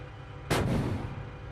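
A tank gun fires once in a military video game, a single close, heavy boom with a sharp onset followed by a long rumbling tail, heard over a low background drone.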